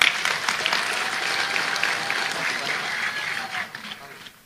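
A large crowd at a religious lecture in Mataram, Lombok claps steadily and fairly loudly, with voices mixed in, before the applause thins out at the end.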